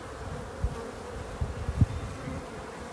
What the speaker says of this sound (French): Là, je viens de secouer les abeilles restantes